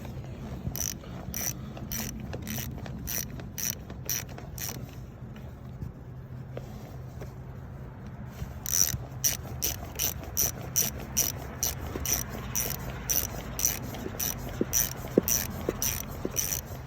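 Ratchet wrench tightening a replacement car battery terminal fitting during a mobile battery installation, steady rapid clicking strokes in bursts, close and fairly loud, pausing midway then resuming faster.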